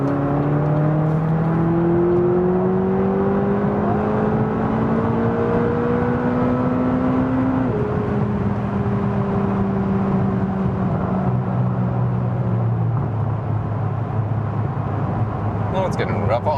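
A McLaren sports car cruising on a rough stretch of the German Autobahn, a steady loud engine drone and road roar with gear-change shifts in pitch and no pauses throughout.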